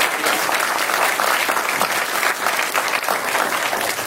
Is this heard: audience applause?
yes